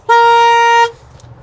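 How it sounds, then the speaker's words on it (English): A car horn blares once, loud and close, holding a steady bright honk for nearly a second before cutting off abruptly, leaving a faint background. "It sounds like it's coming right here where my ear was. It's the horn."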